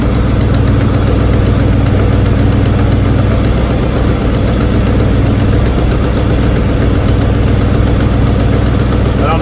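A rusty old car with a dual-feed carburetor and a suspected vacuum leak idles high, a steady loud drone with a faint knocking vibration running throughout.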